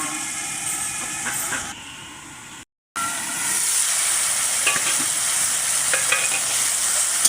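Drumstick vegetables being sautéed in gravy in a covered pan: steady, close frying hiss with occasional stirring scrapes, a brief total cutout partway through, then the sizzle resumes just as strong.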